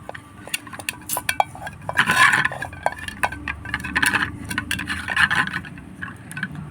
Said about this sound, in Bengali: যে কোনো অ্যালমোনিয়ামের বাটিতেই ঘিটা মাখাতে হবে